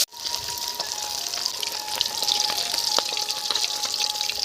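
Large bata fish frying in a crowded village kadai, a dense steady sizzle with scattered sharp pops and spits, close and continuous after a brief opening burst.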